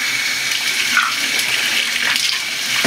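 Water runs steadily from a tap for rinsing during ablution, a loud, close, continuous splashing rush with no voices.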